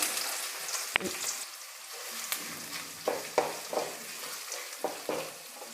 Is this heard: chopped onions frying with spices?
yes